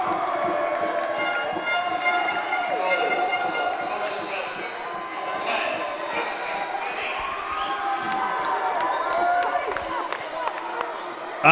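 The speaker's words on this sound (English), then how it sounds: "And the crowd here are going absolutely nuts" A packed gym crowd roars loudly and continuously at an under-18 girls' schools' basketball final, with shoe squeaks and whistle-like tones on top and a voice talking beneath.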